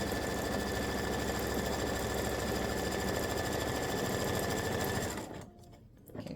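An embroidery machine sews a placement stitch on fabric backed with tearaway stabilizer. It makes a steady, rapid mechanical chatter close by that runs evenly and then stops abruptly near the end.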